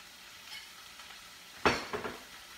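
A pan of vegetables seasoned with salt is stirred over low heat, giving a soft scrape and a brief burst of sizzle that flares twice and fades over a faint steady hiss.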